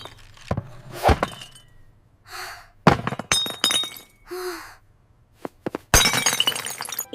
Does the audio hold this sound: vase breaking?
yes